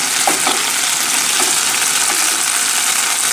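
Anchovies and garlic sizzle in oil in a stovetop pan, a steady, loud, close crackle with a few faint stirring clicks and no voices.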